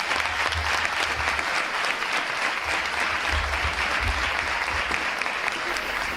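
An audience at a staged musical performance applauds, a dense, steady burst of many hands clapping that stays loud for several seconds before cutting off abruptly.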